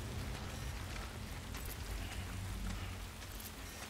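Rain falls in Death Stranding as a dense, steady wash of hiss and rumble, loud and continuous across the whole stretch with no talk.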